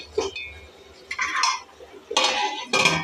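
Metal idli steamer plates clatter and clink as lentil batter is set into the pot, with a few short bursts of scraping and knocking separated by quiet pauses, close and fairly clear.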